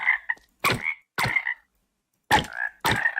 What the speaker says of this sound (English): Frogs have now sung.